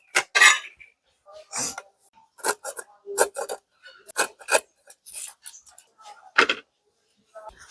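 Moringa drumsticks are cut by hand outdoors in a string of short, crisp scraping and snapping strokes, close and distinct against near silence, with irregular pauses between cuts.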